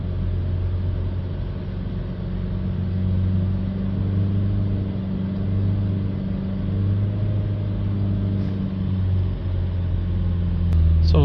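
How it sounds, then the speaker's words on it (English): A Vauxhall Vivaro diesel van engine with a P2002 DPF fault runs at steady, slightly wavering revs: a continuous loud low droning hum that holds for the whole stretch, with a brief rise in pitch near the end. "It's just really hard to hold the revs steady on these vans."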